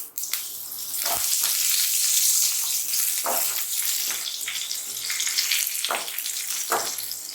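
Cinnamon, cardamom, fennel seeds and curry leaves hit hot oil for a spicy kurma and sizzle loudly and steadily, with a few sharp spits and crackles as more goes into the pan.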